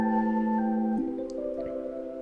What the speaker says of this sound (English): So yeah, all in it sounds like this now.